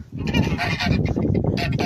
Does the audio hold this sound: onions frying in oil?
no